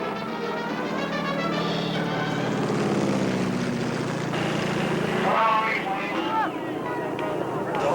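Early propeller airplanes drone at an air show at Roosevelt Field, a continuous rumbling engine noise with shifting pitch, while people talk over it.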